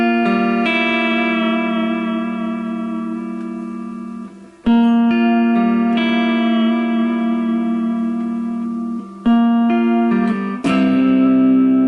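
A Yamaha Pacifica 012 electric guitar rings out with reverb, sustained chords and notes re-struck about every four to five seconds, loud and alone with a lingering echoing tail.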